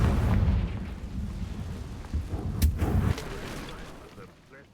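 Blasting spell explosions from Confringo cast in Hogwarts Legacy ring out as loud booming bursts over a dense rumbling low end, with one sharp crack near the middle and a voice speaking in the scene.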